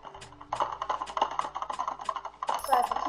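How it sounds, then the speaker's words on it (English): A computer keyboard clatters with rapid, uneven keystrokes, close and fairly quiet, forming a busy stream of clicks over about three seconds. "Sorry for keyboard ASMR!"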